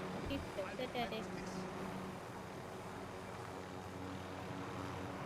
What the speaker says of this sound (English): Let's go ahead and get in the chopper.